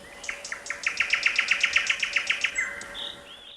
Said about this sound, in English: in Andrei Rublev, the sound of live birds is foregrounded